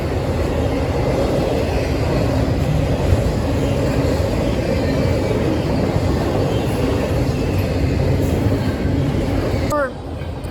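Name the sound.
train passing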